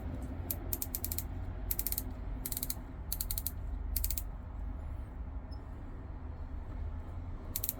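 The unidirectional stainless steel bezel with aluminum ring on a Glycine Combat Sub 48 watch is turned, giving rapid close clusters of crisp ratcheting clicks over a low background hum, then stopping.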